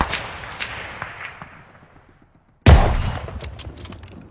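Gunfire in Call of Duty Vanguard at the Battle of Midway: distant shots fade out to near silence, then a sudden loud close blast is followed by a dense rattle of rapid fire.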